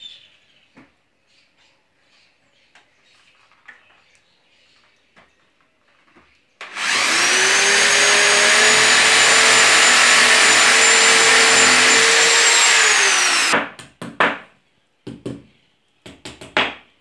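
A power drill bores a hole in wood for a mezzanine: after quiet rustling, a loud, close whirring burst lasts about seven seconds and then cuts off, followed by scattered knocks and handling clicks.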